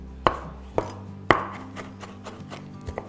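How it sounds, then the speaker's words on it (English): A knife finely chopping fresh cilantro on a board, with three distinct sharp chops followed by a run of lighter, quicker taps, close and clear with no talking. "chop it really fine"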